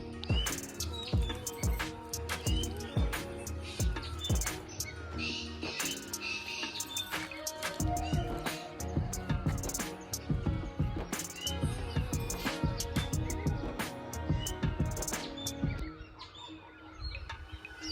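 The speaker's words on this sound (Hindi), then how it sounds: "देखिए पक्षियों की चहचहाहट कितनी सुंदर" Dense morning birdsong fills a tea garden in Palampur: many birds chirp and tweet in quick overlapping calls, some near and some farther off, with a steady chorus running throughout.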